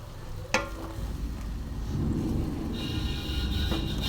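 Chicken masala for panch phoron chicken sizzles in a karahi after water is added, with a sharp clatter, then a steady close frying hiss that swells as the flame is raised, and no talking.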